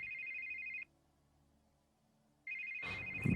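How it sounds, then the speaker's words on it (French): A telephone bell rings in a shrill electronic trill, stops for over a second of near silence, then rings again with a louder rustle at the end. "je n'ai jamais entendu ce téléphone sonner"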